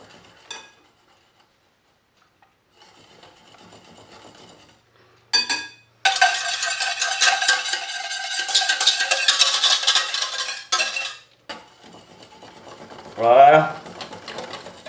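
Chocolate crème anglaise being stirred in a pan, a steady scraping and clinking of utensil against the pan that runs for several seconds, broken by short taps and a brief voice near the end.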